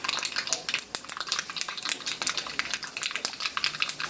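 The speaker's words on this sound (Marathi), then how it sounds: "तेल गरम झाल्यावर त्यात अर्धा चमचा मोहरी, अर्धा चमचा जिरे घातले आहे" Mustard seeds and cumin crackle and sizzle in half a bowl of hot oil in a tadka pan, a dense steady spattering with scattered sharp pops throughout, close and fairly loud.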